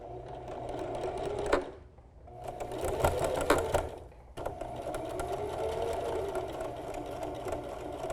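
Steady close whirring from a sewing machine running a straight-stitch seam on a flutter sleeve tee, with two short pauses and a few clicks between longer continuous runs.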